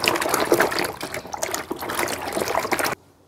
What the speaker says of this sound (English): I need to add water and wash it out.